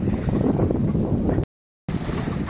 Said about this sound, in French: il y a toujours autant de vent